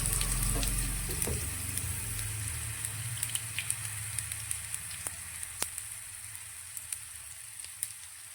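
Steady sizzling of millet and fresh fenugreek handvo batter frying in hot oil, a continuous crackling hiss with scattered sharp pops, close and moderately loud, no voices.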